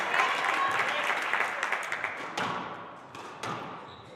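Crowd applauding at a squash match in a National Squash league broadcast, scattered clapping fading over the clip with ball or racket taps cutting through, plus faint commentary.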